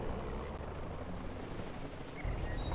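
Helicopter gunship in C&C Generals, a steady, loud rotor-and-engine drone that holds without a break and grows slightly heavier near the end.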